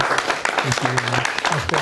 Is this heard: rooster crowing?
no